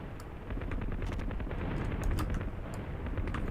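Rapid helicopter machine gun fire in the combat game Heliborne rattles in a dense, continuous burst of sharp shots lasting a few seconds, with no voices over it.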